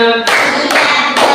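Students in a classroom discussion group clap a short counted rhythm together, three loud, close bursts of clapping in quick succession with no talk over them.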